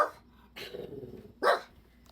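A dog gives two sharp barks close by, separated by a short rumbling growl, then falls quiet.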